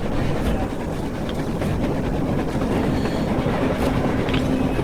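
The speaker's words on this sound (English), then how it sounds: "A train! A damn train on the surface!" A long train rumbles past on the surface in Metro Exodus, a steady, loud wash of rolling wheels and rail noise filling the whole stretch with no clear breaks.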